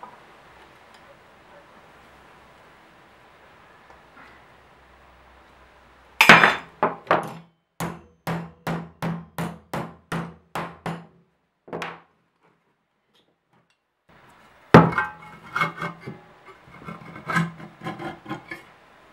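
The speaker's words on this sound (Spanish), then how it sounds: "Lo que voy a hacer ahora es cortar la chapa y luego doblarla." Sheet metal is cut and bent for an outdoor lamp with close, sharp metallic knocks: about a dozen strikes in an even rhythm, a pause, then another irregular burst.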